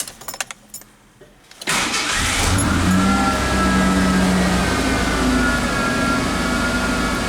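A 1988 Ford Ranger engine cranks briefly and catches, then settles into a loud, steady idle held at a raised speed while still cool, with a continuous low rumble close by and no talk.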